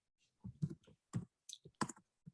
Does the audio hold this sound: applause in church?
no